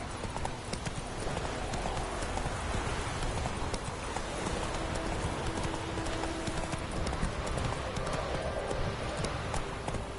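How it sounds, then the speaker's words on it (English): Horse hooves trotting as a rider travels in The Witcher 3 video game, a steady rhythmic clip-clop running unbroken from start to finish over a dense, busy background. "Come on, Roach. Slow now. Whoa"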